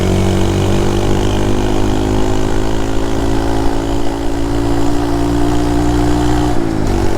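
Honda motorcycle fitted with a Takagawa aftermarket exhaust, its engine running steadily near the microphone with a full, even tone that is a little louder than stock, ending in a slight dip in pitch just before the close.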